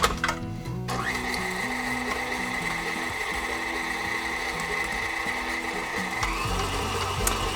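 An electric mixer creams butter for a cinnamon streusel coffee cake batter, whirring steadily and close up, with a brief rattle at the start before it settles into a constant mechanical drone.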